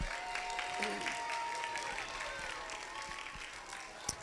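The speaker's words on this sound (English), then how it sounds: "let's give them one more round of applause" Audience applause for a church drama team at a live-streamed service, a steady wash of clapping throughout with a single sharper clap near the end and faint voices mixed in.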